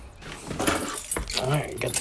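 Keys jingle and clink in short bursts close by, with a voice speaking briefly alongside, before work on a 2017 6.7 Powerstroke truck.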